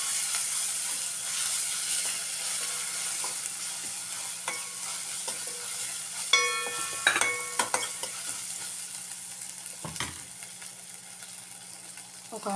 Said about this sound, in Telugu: దీనిలోనే ఒక 1/2 స్పూన్ అల్లం వెల్లుల్లిపాయ వేసుకుంటున్నాను. ఇది పచ్చివాసన పోయేంత వరకు వేయించుకొని